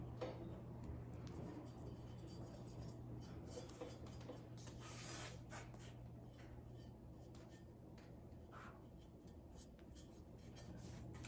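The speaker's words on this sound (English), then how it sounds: "I'm just kind of using my Q-tip, kind of going over the flag." Q-tip rubbing over chalk paint on a painted flag, a faint, close scratchy rubbing in short repeated strokes against a quiet steady hum.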